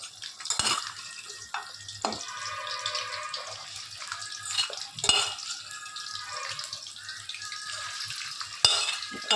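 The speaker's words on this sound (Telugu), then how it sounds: "ఆయిల్లో ఈ ముక్కలు వేయించుకోవాలా" Chicken pieces for pickle frying in hot oil, a steady broadband sizzle with a few sharp clinks of a utensil against the pan scattered throughout, with no voices.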